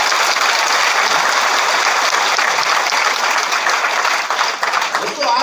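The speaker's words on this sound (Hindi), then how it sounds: "यार जोरदार तालियां उनके लिए भी।" Loud, sustained applause from a large crowd at a motivational business gathering in Manali, thick and continuous clapping that stays strong throughout and thins slightly at the very end.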